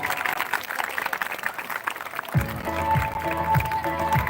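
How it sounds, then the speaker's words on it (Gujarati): A dense wash of audience clapping at a student felicitation ceremony, where guests are welcomed with bouquets and shawls, fills the first half before giving way to music with a steady beat. "તાળીઓ આપણે શરૂ રાખશું."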